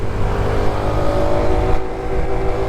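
A 2023 Honda Trail CT 125 motorcycle engine hums and pulls steadily during a ride, close and loud with slight throttle swells and wind rush, no voices.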